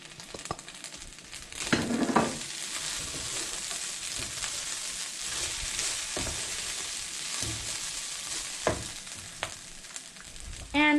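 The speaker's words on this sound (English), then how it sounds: "I'm gonna go ahead and add in my spices." Rice and noodles are stirred in a pot with spices while the pot sizzles steadily, with occasional scraping and clinks of a utensil against it.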